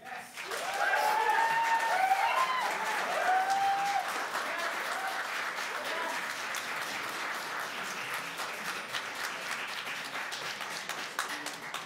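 Members of the public applaud at a city community council meeting, a sustained, moderately distant round of clapping with a few voices near the start, holding steady throughout.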